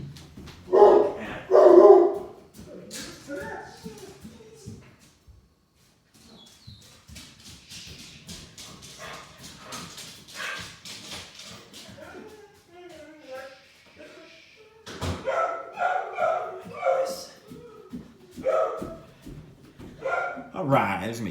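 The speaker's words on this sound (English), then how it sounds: "there's going to be a large dog barking in another room" A large dog barking in another room: a burst of loud barks at the start, then muffled scattered barks and whines partly under someone talking, growing busier toward the end.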